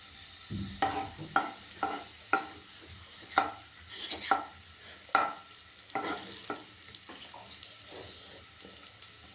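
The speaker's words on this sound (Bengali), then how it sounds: "দেখো আমি এটা ফ্রাই করছি" Food frying in a pan at home, a sizzle broken by repeated spoon scrapes and knocks against the pan every half second or so, close and moderately loud, with no voices.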